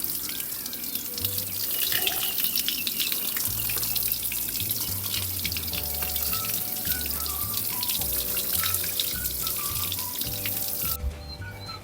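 Water poured onto a sand tray to soak wild pak wan seeds, a steady continuous splashing and trickling wash that runs the whole time, close and fairly loud, with a few bird calls in the background.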